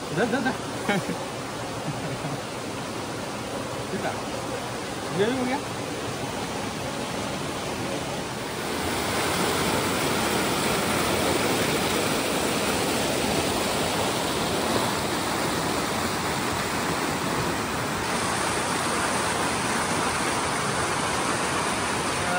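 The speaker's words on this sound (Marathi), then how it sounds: "बाजूला नदी आहे." A river flows steadily beside a forest picnic spot, a broad constant rushing that grows a little fuller partway through, with people talking quietly over it.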